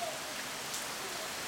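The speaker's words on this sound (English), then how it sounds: "And now a big old rainstorm has hit." Heavy rain from a sudden rainstorm pours steadily onto an outdoor swimming pool and its surroundings, a dense continuous hiss of drops close by with no voices.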